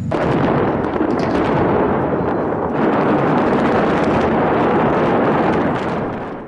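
Cannon fire from the Britannia pirate ship show in Las Vegas, a sustained roaring barrage of booming blasts and rumble that fills the whole stretch loudly with no let-up.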